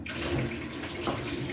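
Water poured from a tap into a plate in a kitchen, a steady splashing gush at close range running continuously without voices.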